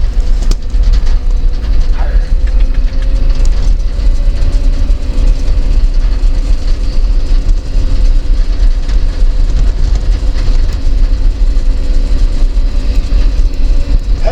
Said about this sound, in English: I'm driving a 62 Chevy K20.